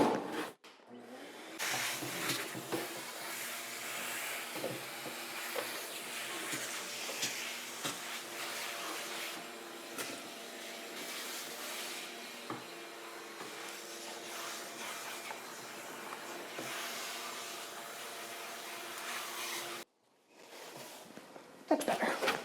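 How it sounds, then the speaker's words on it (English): A household vacuum cleaner runs steadily up close for about twenty seconds, a continuous broadband roar with a brief cutoff near the end, used to tidy up seeds indoors. "Oh, let me vacuum that real quick."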